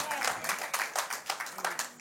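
Scattered hand clapping from a small group at a church worship service, quick and uneven, moderately faint, with some voices mixed in.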